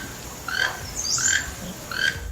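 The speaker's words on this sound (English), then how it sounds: "it sounds like a strange mixture of a cackle and the croaking of a frog with a cold" A toucan calls three times in short croaking, cackling bursts, fairly close, with gaps between each call and a quiet background.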